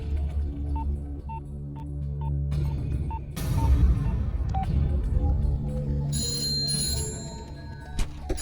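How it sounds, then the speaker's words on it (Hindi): A telephone rings repeatedly in short regular bursts in an indoor scene from the Hindi thriller film Lateef. Rumbling background music and noise swell over it, and a bright tonal sting comes in near the end. "सर, घंटी बज रही है, कोई फोन नहीं उठा रहा है"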